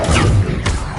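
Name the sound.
Confringo blasting spell impact, Hogwarts Legacy video game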